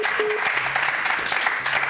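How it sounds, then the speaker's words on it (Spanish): Steady clapping from a small group fills the clip, dense and continuous, with faint voices mixed underneath. "Un aplauso para María"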